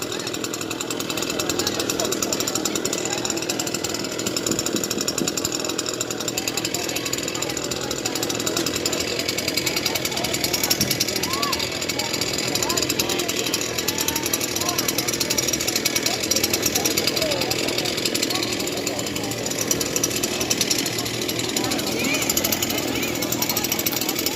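A leaf blower runs steadily and loudly through an outdoor Portland street protest, a continuous engine roar with voices and crowd noise mixed in throughout.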